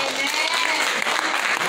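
Church congregation applauding in a dense, even burst of hand claps, loud and close, lasting under two seconds.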